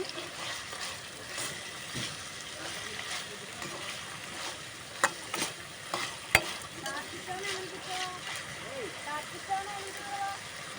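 Onions fry with rock salt in a pan in a village kitchen, a steady low sizzle with occasional stirring scrapes and clicks, while a voice talks over it.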